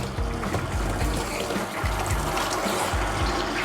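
A handheld shower sprays water in a steady, hissing rush while a dog is bathed, close and continuous, with splashing and dripping mixed in and no talking.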